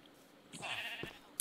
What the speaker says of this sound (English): There's the sheep pen doing well, been breeding them up